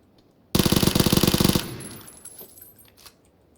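Automatic gunfire from the video game PUBG: a loud, rapid burst of about a dozen and a half shots lasting around a second, followed by a fading echo tail, with no talking.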